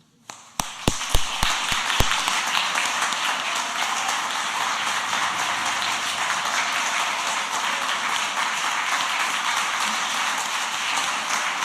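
A church congregation at a Sunday service starts with a few separate, sharp claps that quickly merge into steady, sustained applause lasting to the end.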